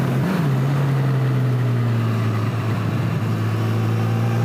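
A Honda CB1000R motorcycle pulling hard from third gear, a loud, close, sustained engine drone with a steady rising tone and wind rush, no talking.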